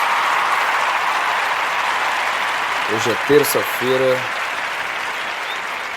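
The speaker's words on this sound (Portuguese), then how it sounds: "Uma salva de palmas." A recorded burst of crowd applause opening a podcast episode, a steady, even wash of clapping throughout, with someone briefly speaking over it midway.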